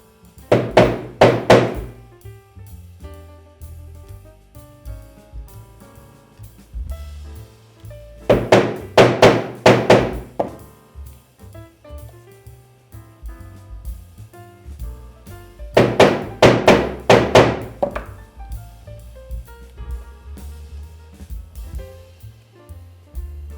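A hammer strikes metal letter stamps into leather for a handmade keyring, set on a wooden block, in three separate clusters of quick, hard knocking taps with quiet pauses between.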